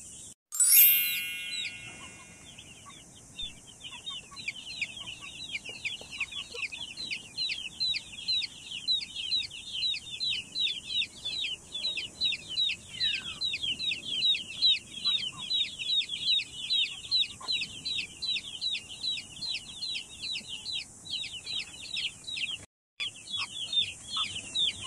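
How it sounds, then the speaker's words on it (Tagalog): Many chickens cluck and chirp in a dense, continuous chorus of quick repeated calls, fairly close, steady throughout with a brief clank at the start. "I have 3 kinds of chicken here."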